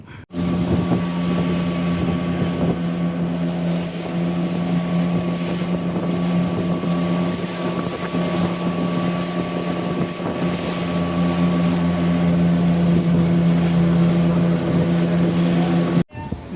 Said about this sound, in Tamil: மக்களே நம்ம இந்த போட்டில் தான் ரிட்டன் வந்தோம்